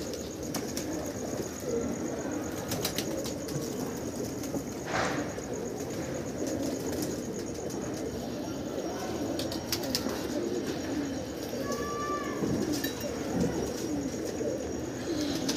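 Flock of domestic pigeons flying and cooing, soft coos and wing flutters over a busy outdoor background, with a few sharp chirps and bursts scattered across the long stretch.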